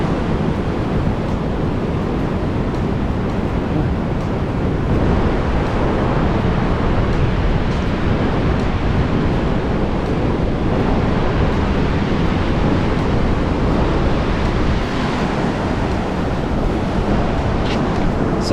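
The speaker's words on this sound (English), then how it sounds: "the surf seems to be a lot bigger there" Big ocean surf rolls onto Kata Beach in Phuket near the rocks, a steady unbroken roar of breaking waves mixed with gusty wind buffeting the microphone, with no talking.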